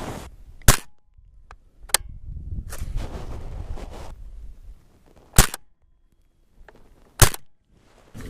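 Three sharp suppressed gunshots from a rifle fitted with a Griffin Armament Optimus Micro suppressor, fired at about 25 yards outdoors, each crack standing alone and spaced several seconds apart over light wind noise.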